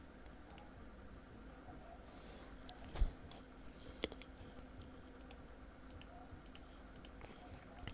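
Soft, sparse keyboard taps type into an Instagram search bar, with scattered quiet clicks and one sharper knock against a faint hum.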